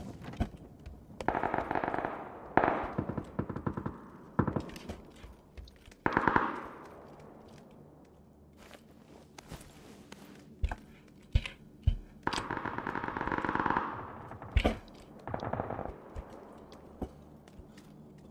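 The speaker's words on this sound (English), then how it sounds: "I'm still shooting at this guy." Gunfire in PUBG, repeated bursts of rapid automatic shots and scattered single cracks, moderately loud, with pauses between volleys.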